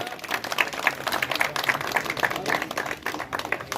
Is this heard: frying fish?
no